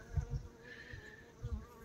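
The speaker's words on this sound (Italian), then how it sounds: "Ecco qua le api, guardate che meraviglia." Honey bees buzz steadily at a hive in an apiary on a grey, slightly windy December day, a soft continuous hum with faint low thumps of wind or handling.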